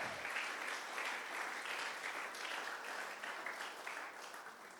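Church congregation clapping during an afternoon service, a sustained, fairly distant round of applause with no talk over it.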